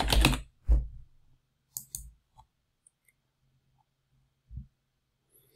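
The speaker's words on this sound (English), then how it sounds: "I might need a silent keyboard. This keyboard is too loud." Sparse, heavy keystrokes clack on a loud keyboard, a few clustered taps then scattered single clicks separated by quiet gaps.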